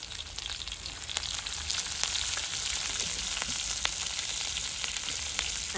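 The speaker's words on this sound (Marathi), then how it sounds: "त्यासाठी आपण तव्यावर तेल घेतलंय. मिरचीचे तुकडे आणि पांढरी तीळ." Chili pieces and white sesame seeds fry in oil on a griddle, a dense, continuous close sizzle with frequent sharp crackles and pops.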